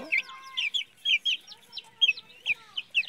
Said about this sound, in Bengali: উপরে আমাদের আছে কিছু মুরগির বাচ্চা।